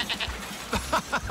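Cartoon lambs bleat in short, high, wavering cries, several quick calls in a row, close and clear.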